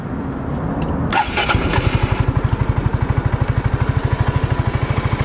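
A Suzuki Burgman 400 scooter engine cranks briefly, catches and settles into a steady, even idle with a rapid regular thumping pulse, close and loud with no one talking.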